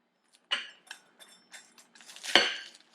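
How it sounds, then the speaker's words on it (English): A pizza cutter slices through brie baked in crispy puff pastry, giving a few short scraping and crunching bursts with a louder clatter of metal on a plate near the end, close and fairly quiet, with no talking. "So I just take a pizza cutter, slice it like that"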